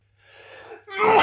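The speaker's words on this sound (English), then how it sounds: "He sneezed bitterly." A man sneezes once, alone and close: a quiet indrawn breath builds, then a sudden loud burst ends it.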